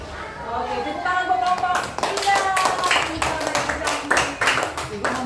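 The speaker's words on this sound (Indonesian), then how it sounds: "Oke, tepuk tangan buat kelompok 3." Classroom children clapping for a student group, a burst of uneven hand claps building after a moment of teacher talk, close and moderately loud with voices mixed in.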